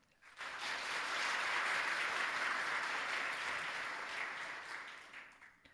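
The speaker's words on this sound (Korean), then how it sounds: "여러분 큰 박수로 환영해 주시기 바랍니다" A church congregation in a Korean Sunday worship service bursts into warm, sustained applause of welcome, the clapping rising quickly and holding steady for several seconds before fading.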